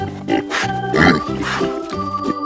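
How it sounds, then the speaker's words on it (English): A pig gives several quick, close oinks and grunts in an uneven rhythm, set against a cheerful backing melody from a children's animal-names lesson. "Pig."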